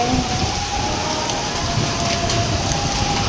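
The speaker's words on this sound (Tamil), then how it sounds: "மழை வந்துருக்குதுங்க" Heavy rain pouring down in Bangalore with gusty wind, a dense, steady hiss that stays loud and unbroken throughout with no voices.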